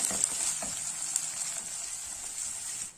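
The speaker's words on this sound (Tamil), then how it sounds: "ஒரு 2 வெங்காயத்தை பொடியா கட் பண்ணி வச்சிருக்கேங்க, அதை இதுல சேர்த்துக்கும். இப்ப அதை நல்லா வதக்கி விட்டுடலாம்." Chopped onions sautéing in a pan for a Tamil dried fish thokku, a steady close crackling sizzle with a few soft stirring taps, no talk.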